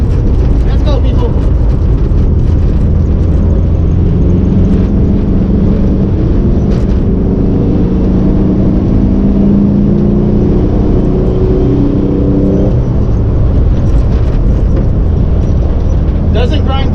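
A 1961 Volkswagen with a manual transmission driving on the road, its engine droning loudly and steadily from inside the cabin, with pitch rising and falling through the gears.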